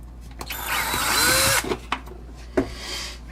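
A cordless drill running on worn-out nickel cadmium batteries whirs briefly in a rising, strained burst, followed by a few clicks and knocks in a quiet room.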